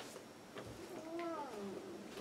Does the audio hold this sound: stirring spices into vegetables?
no